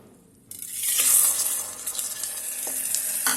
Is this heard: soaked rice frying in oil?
yes